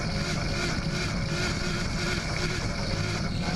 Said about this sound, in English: These LS motors have a really unique sound. They make their own squeal or a wail